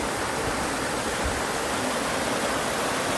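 Bagginahalla waterfall at Sakleshapura in the Malnad hills roars as a dense, steady broadband rush of falling water, close and unbroken, with no voices.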